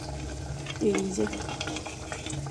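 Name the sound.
eggplant frying and khichuri boiling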